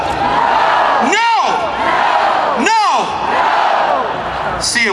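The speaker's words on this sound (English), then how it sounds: "Wow, this is an incredible crowd here." Loud crowd noise at an anti-Trump rally, a dense roar of many voices shouting together that stays near and steady throughout, with rhythmic chant-like swells.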